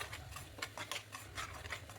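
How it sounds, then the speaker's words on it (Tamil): Ground masala paste sautés in oil in a kadai, with soft scraping and stirring strokes of a spatula against the pan repeating every fraction of a second, faint and close, with no talking. "கடாயில் ஆயில் சேர்த்துட்டு நம்ம கிரைண்ட் பண்ண பேஸ்ட்டை சேர்த்து நல்லா வதக்கி விட்டுருங்க."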